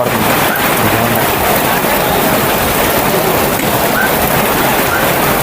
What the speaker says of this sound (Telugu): పెద్ద వర్షం ఇది, ఇప్పట్లో ఆపేయట్లేదు.